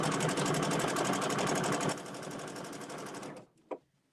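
Domestic sewing machine doing free motion quilting, a close, rapid, steady stitching chatter that runs for a few seconds, eases slightly, then stops, followed by a single faint clunk.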